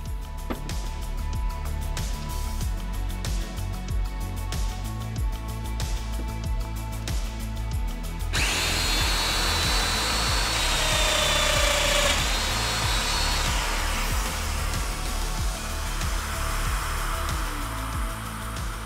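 A Festool Domino DF 500 joiner cuts a mortise into a timber mitre joint: steady tonal machine hum and clicking first, then a louder, brighter whining plunge cut that holds for about ten seconds, close and continuous with no talk.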